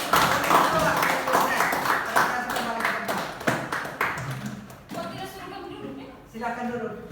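A classroom group claps during a teaching session, uneven bursts of hand claps mixed with voices talking, loud and close, thinning out toward the end.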